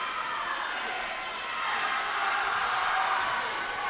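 Teammates cheering on a swimmer at a college conference swimming championship, a sustained roar of shouts and whoops echoing around an indoor pool, steady and loud throughout.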